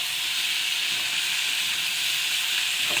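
Food fries in a pan during Bengali home cooking, giving a steady, close, continuous sizzling hiss with no talk.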